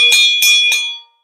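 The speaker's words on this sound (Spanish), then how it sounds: "A mi campana de profe." A teacher's bell is struck three times at an even pace, each ring bright and close, and the ringing fades out at the end.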